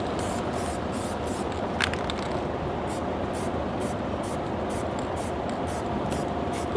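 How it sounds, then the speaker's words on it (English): An aerosol can of brake cleaner sprays onto parts of a 2011-2016 Ford Excursion, giving a loud, continuous close hiss broken by brief pulses of spraying. "all right, brake clean"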